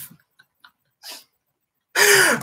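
A single loud, close sneeze bursts out near the end after a few faint breaths and a soft intake, sharp and explosive with a brief trailing vocal tail.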